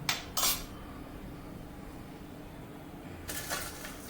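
A dinner plate set down among dishes and cutlery at a home dinner table, with two brief clinks near the start and another clatter near the end, separated by a quiet room hum.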